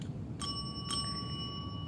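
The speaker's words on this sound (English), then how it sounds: "When you hear the double ring" Two bright ringing strikes of a classroom bell, about half a second apart, with sustained metallic overtones fading over a low steady room hum.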